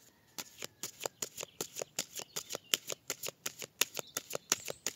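Oracle cards shuffled and cut by hand in a quick, steady run of about two dozen crisp riffling snaps, close up and alone with no talk.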